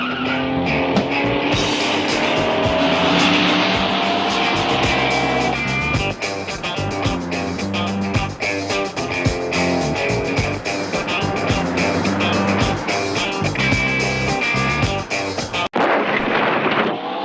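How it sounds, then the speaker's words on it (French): A 1970s film car chase ends in a crash: engines roar and tires skid amid loud bangs and crashing impacts, with a dense, busy mix that cuts off abruptly near the end. "Collins a un accident de voiture."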